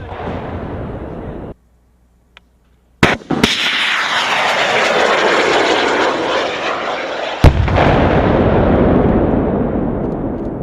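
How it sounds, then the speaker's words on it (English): A Javelin anti-tank missile fires with a sharp launch crack followed by a loud, sustained roaring rush of the rocket motor that continues for several seconds, with a second sharp report partway through; nearby and powerful, following a brief quiet moment. "All right, fire when you're ready. Firing. Boom!"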